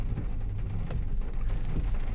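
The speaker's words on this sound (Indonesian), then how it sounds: "bayangkan sudah pun jam begitu padat, hujan pun datang." Steady rain on a heavily congested road, a dense continuous wash of patter with low traffic rumble beneath, close and even throughout.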